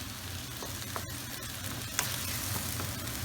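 Minced meat for a British cottage pie browns in a pan with a steady, fairly close sizzle and crackle throughout, marked by a few sharper pops and spatters, with no voices.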